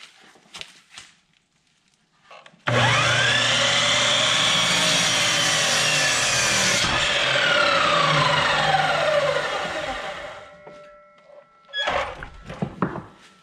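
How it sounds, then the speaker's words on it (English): A Harbor Freight Chicago Electric chop saw spins up with a loud whine and cuts through a hardwood board for several seconds, then winds down, with clunks and knocks of handling before and after. "this is a Harbor Freight chop saw, Chicago Electric"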